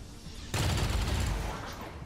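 A sudden loud burst of rapid gunfire erupts after a short quiet lead-in in XCOM 2 Long War 2 and rattles on for over a second before slowly fading.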